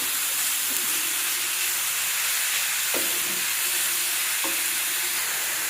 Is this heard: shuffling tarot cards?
no